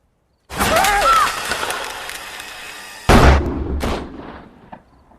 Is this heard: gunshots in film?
yes